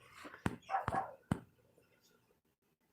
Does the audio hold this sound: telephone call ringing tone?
no